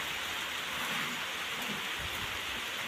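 Heavy rain with large drops pours down steadily and loudly, a dense continuous hiss with no voices.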